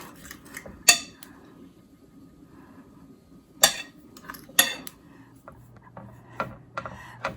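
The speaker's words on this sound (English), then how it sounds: "So I'm going to keep stirring this." A fork pressing and stirring a thick bourbon ball mixture of butter, sugar, bourbon and vanilla in a bowl, sharp scattered clinks and scrapes against the dish with quiet gaps between.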